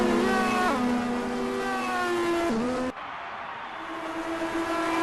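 A BMW and a Porsche race car scream down the main straight of a Grand Prix circuit, loud and close. Engines hold a high whine, then the pitch drops as the cars pass before the sound cuts to a quieter tone.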